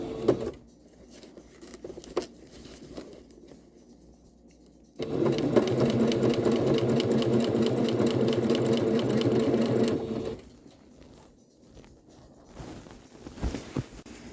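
A sewing machine runs steadily for about five seconds with a dense, even mechanical whir, framed by quieter handling noises before and after.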